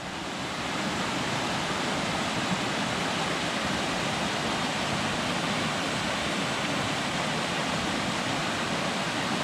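Steady, loud rush of flowing creek water spilling past a dam, a continuous broadband roar with no voices.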